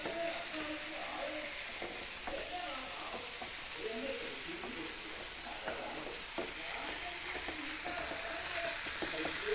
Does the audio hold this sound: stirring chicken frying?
yes